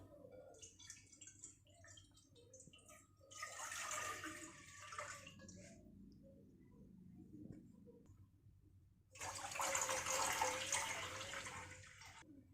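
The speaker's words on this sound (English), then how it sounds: "add water required amount" Water is poured into a cooking pan in a home kitchen, two separate splashy pours of a few seconds each, separated by quiet, moderately faint and close.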